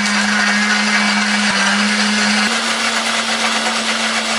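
A blender grinds a spice paste of red curly chili, garlic, shallot, turmeric and ginger with a little water, a loud steady whirring drone throughout that shifts slightly in pitch partway through, close and alone.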